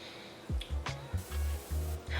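A few short hissing sprays from a perfume bottle, close up, in quick succession with small clicks of the nozzle between them.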